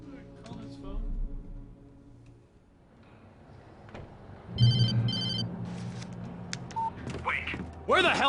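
In the Alan Wake video game, a phone rings in bursts of electronic tones midway through, among quieter game ambience and rustling, and a voice speaks near the end.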